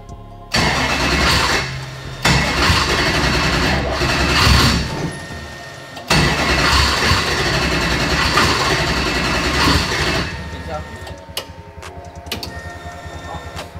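A 125cc motorbike engine runs loud and close, its note rising and falling in repeated revs, then cutting out near the end, leaving a few faint clicks.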